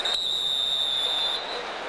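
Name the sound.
referee's whistle at an NFL football game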